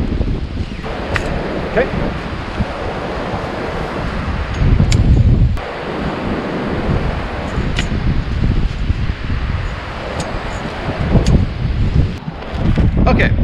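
Strong 30-mile-an-hour wind buffets a beach with surf while a lighted shower tent is being set up, a loud, gusting roar with rustling and surging waves throughout. A voice speaks briefly.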